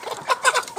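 Young laying hens make a brief burst of close, scratchy clucking, a few quick notes in under a second.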